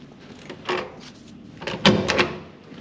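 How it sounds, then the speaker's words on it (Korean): Hotel room door at the Park Hyatt Saigon being opened, with a few close clicks and thumps of the latch and handle in a quiet room. "이게 문을 열고 들어오면은"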